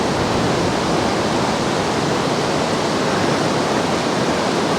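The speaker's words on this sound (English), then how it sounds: "the water up here is super crystal clear, mountain stream, right off of the passes" A crystal-clear high-altitude alpine mountain stream fed from the passes rushes continuously nearby, a loud, dense, steady hiss of flowing water with no pauses.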